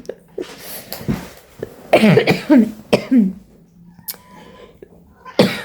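A few sharp coughs in a quiet room, separated by pauses, with faint background murmur.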